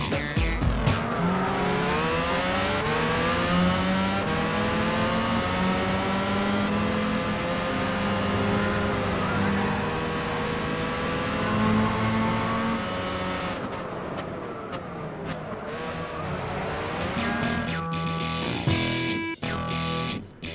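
Suzuki Escudo Pikes Peak race car in Gran Turismo revs hard and loud, engine pitch climbing through gear after gear with a brief tire squeal, up close and alone.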